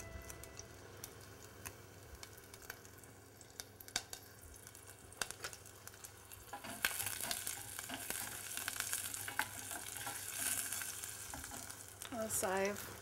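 Oil with onion and small-leaf thyme sizzling in a pot for stewed pigeon peas, a faint low crackle that swells louder and brighter halfway through, with scattered ticks and clinks and a brief voice near the end.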